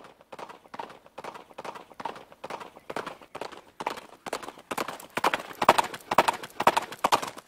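Steady clip-clop of a horse's hooves on firm ground, a brisk even rhythm of ridden strides that grows louder and closer toward the end, with no voices over it.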